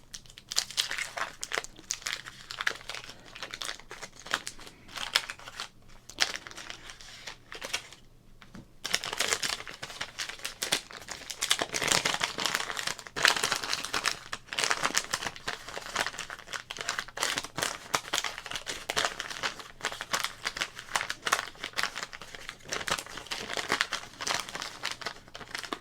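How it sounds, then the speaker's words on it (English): Crinkly foil wrapper of a 1991 Fleer football card pack being torn open and handled, continuous close crackling and tearing throughout with a brief lull near the start, no talking. "Let's open up this pack, see what's inside, price it."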